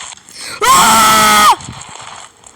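A person lets out one loud, sustained scream that lasts close to a second, with quieter background sound before and after it.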